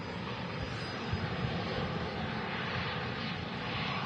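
A TAP Express airliner arriving from Lisbon at Manchester Airport gives a steady, broad engine roar that holds loud and even throughout, with no voices.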